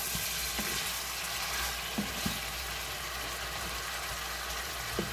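Chicken pieces and raw potato chunks frying together for Sindhi biryani, giving a continuous low crackling sizzle with occasional faint utensil taps against the pot.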